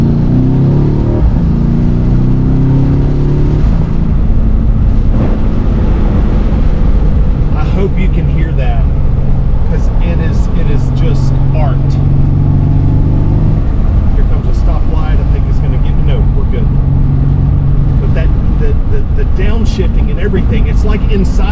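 A loud Mercedes-Benz C63 S AMG V8 engine rumbles and revs up through its range, pitch rising and falling, while someone talks over it.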